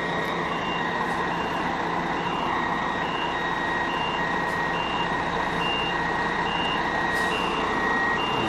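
A bus reverses at a busy intercity bus station, its reversing alarm beeping steadily and repeatedly over a continuous diesel engine rumble throughout.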